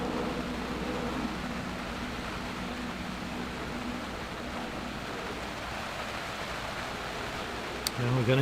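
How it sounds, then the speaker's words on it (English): Steady rain falling during an outdoor croquet match at the President's Cup, an even hiss of drops with a faint low rumble, constant throughout before a brief clatter near the end. "Now we're getting proper rain."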